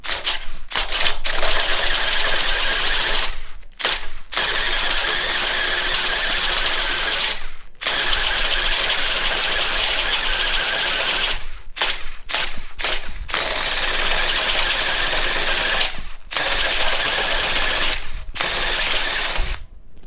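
A Makita hybrid hammer drill runs in low speed in several long bursts, a loud rapid rattling hammer action broken by short pauses between each run.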